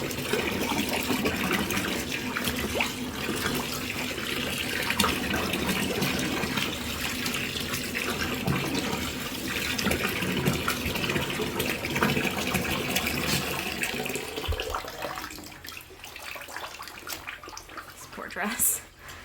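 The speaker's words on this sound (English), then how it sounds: "I'm just going to rinse it real well in a big bucket." Water splashes and gushes in a big bucket as a dress is rinsed, a steady sloshing and running-water sound close by for most of the stretch before tapering off, with a voice talking over it.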